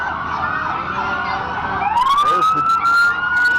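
Ambulance siren at the 2020 Guymon Pioneer Days town parade, a rising electronic wail that swells in from the middle of the clip over crowd noise, with someone talking briefly before it.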